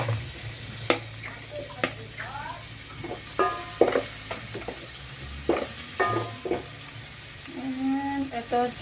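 Tomatoes sautéing in a pan for pork pochero, a steady sizzle with intermittent clinks and scrapes of a utensil stirring against the pan, while a person talks intermittently.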